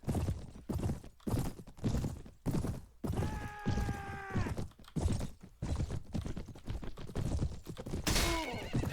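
A horse whinnies twice in the Mount & Blade Warband video game, amid steady rapid clip-clop of hooves galloping close and loud throughout.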